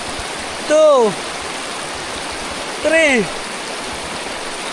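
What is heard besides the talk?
river flowing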